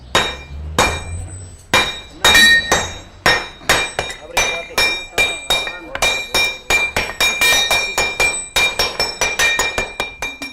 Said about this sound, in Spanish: cada uno de ellos carga un marro que pesa de 3 a 6 kilos para ir golpeando el tejo y lograr que se expanda